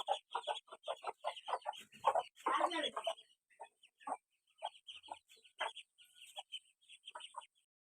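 Hens clucking in short repeated bursts as ducks and chickens are let out of their coop in an Assam village, with a flurry of louder squawking and wing noise in the middle, then scattered clucks continuing nearby.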